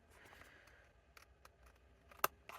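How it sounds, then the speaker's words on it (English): Scissors snip through card paper at a craft table, a few faint, sparse cuts followed by one sharp, louder snip near the end in a quiet room. "I'm just using my scissors today because"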